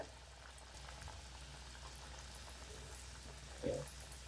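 Potato snacks deep-fry in hot oil, a quiet, steady bubbling hiss with a short louder burble near the end.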